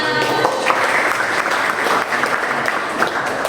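Applause from a classroom of young pupils, a steady burst of clapping that fills the room, with some children's voices mixed in underneath.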